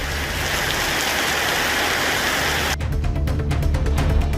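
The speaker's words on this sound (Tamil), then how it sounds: "மயிலாடுதுறை மாவட்டத்தின் பல்வேறு இடங்களில் பரவலாக மழை பெய்தது" Heavy rain pours down in the Mayiladuthurai district of Tamil Nadu, a loud, steady wash of drops hitting surfaces; partway through, the hiss thins to a denser patter of splashing drops, with no voices.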